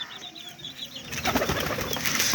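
Rajshahi Giribaz pigeons on a pigeon farm, with soft cooing and fluttering at first, then a busier, louder stretch of wing flapping and shuffling birds close by. No one speaks.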